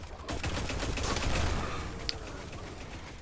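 Gunfire and explosions in the video game Destiny, a dense, continuous rattle of shots with heavy low rumble throughout, fairly quiet and without talk.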